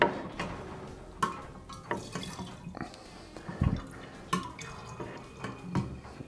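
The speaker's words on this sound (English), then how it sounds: "And it starts the siphoning." Wine is siphoned during racking with a small home winemaking kit, producing a trickle of gentle drips and soft liquid taps at irregular intervals, close and quiet.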